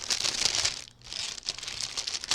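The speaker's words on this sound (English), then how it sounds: "Let me get it out of the plastic," Crinkly plastic packaging being handled and pulled off a stamped cross stitch kit, a close, continuous rustling and crackling with a brief pause midway.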